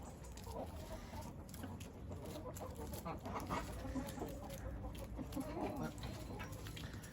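Hens in a Turkish backyard coop, one of them sitting on a clutch of six eggs, cluck softly and intermittently over a constant low rumble of background noise.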